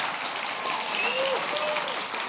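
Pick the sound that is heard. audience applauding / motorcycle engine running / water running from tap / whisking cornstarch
audience applauding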